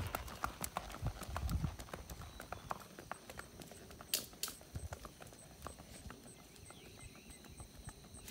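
Hooves of a horse walking clip-clop in a steady, close rhythm of sharp knocks on hard ground, with faint background noise and no clear talk.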